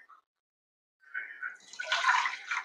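Water is poured from a measuring bowl into a pot during chakli preparation, a short, close splashing pour that starts after a second of near silence.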